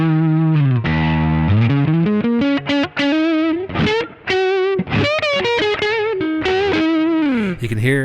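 SX 335 copy semi-hollow guitar with P90 pickups, both selected, played through the amp's dirty channel with the overdrive pedal off: sustained notes, bends and quick phrases with bright top end, loud and alone.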